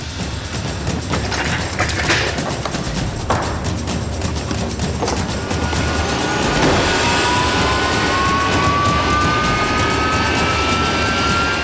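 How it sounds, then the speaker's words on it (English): Harrier fighter jets on a busy military airstrip in Afghanistan produce a steady, loud jet-engine roar with a rising turbine whine that swells toward the end. No one speaks. "The Harrier engineers have got the planes primed and ready to go."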